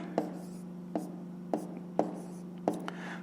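A pen or chalk writes numbers for a fifth-grade math exercise, making five sharp tapping strokes at an uneven pace over a steady low hum, close and fairly clear.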